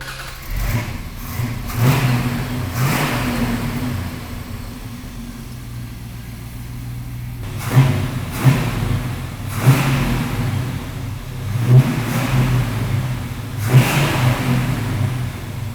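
A 1965 Studebaker Commander with a 383 stroker engine idles with a low rumble, then is revved repeatedly in short bursts, loud and close, each rise falling back to idle.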